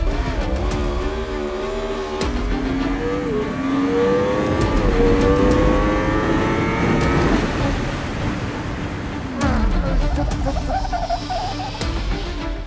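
A Yamaha R1 sport motorcycle heard at a distance on a track, its engine rising in pitch as it accelerates hard and then winding down as it brakes, with a steady roar throughout.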